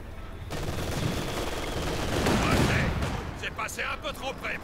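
Barrage fire from a self-propelled gun in a WWII strategy game battle, a dense, continuous roar of overlapping gunfire and blasts that swells midway, then breaks into scattered sharp reports while a voice talks over it.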